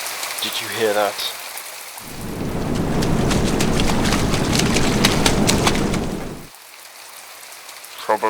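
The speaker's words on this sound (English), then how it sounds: "Probably just the rain." Steady heavy rain pours down for several seconds during a short downpour outdoors near trees, loud and even, cutting in abruptly and stopping just as suddenly, with brief voices before and after it.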